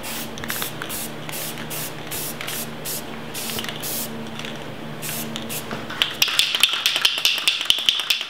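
Aerosol spray paint can hissing in a series of short bursts, then rattling as it is shaken, close and fairly loud.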